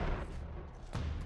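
A grenade explodes in the video game Uncharted 3. A dense, rumbling blast sounds at the start, and a second heavy boom bursts about a second later amid continuous loud battle noise.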